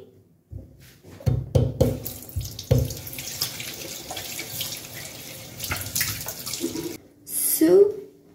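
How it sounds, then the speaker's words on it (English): Water runs from a bathroom sink faucet while a face is washed, a steady close splashing stream with handling knocks and brief interruptions, ending in a louder gush; no one speaks. "But first, I'm going to wash my face."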